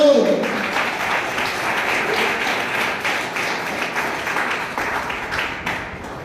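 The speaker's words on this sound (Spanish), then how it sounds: "Dale un aplauso al Señor" A church congregation applauds during a service, many hands clapping in a steady, fairly close patter that carries on for several seconds after a voice at the start.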